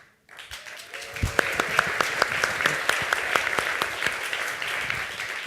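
Audience at an opening ceremony breaking into applause after a brief quiet start, distinct individual claps standing out over a continuous crowd clapping texture that holds steady to the end.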